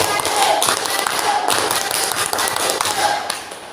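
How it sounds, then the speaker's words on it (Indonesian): A school group at an Indonesian junior high event performs the scout clap, tepuk pramuka, in rhythmic clustered claps and taps that recur across the moment, with faint voices underneath. "Baik, kita coba tepuk pramuka."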